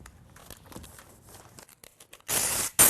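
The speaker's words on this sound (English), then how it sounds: "and I'll tape the seams" DuPont Tyvek flashing tape crinkles and rustles as it is applied over window seams, quiet handling at first, then a short loud tearing rip near the end.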